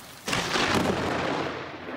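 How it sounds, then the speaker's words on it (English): A thunderclap from a storm over Sydney's southwest that also brought rain, hail and strong wind. It cracks in suddenly and then rolls on as a loud, sustained rumble with no voices. "lightning, thunder,"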